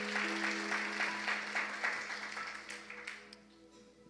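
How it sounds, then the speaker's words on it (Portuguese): A congregation claps at a church worship service, moderately loud at first and fading over four seconds over a steady organ or keyboard drone. "Dê uma salva de palmas para Jesus"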